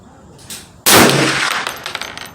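A single loud, sharp crack of an AR rifle chambered in 300 Blackout firing one shot outdoors, followed by a ringing decay and a faint trailing echo.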